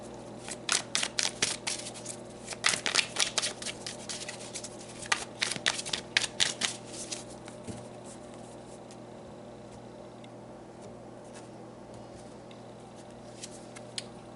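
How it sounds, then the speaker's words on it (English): Tarot cards are shuffled in quick crisp riffles and flicks close up for several seconds, followed by quieter handling and near silence. "So let's pull some more cards"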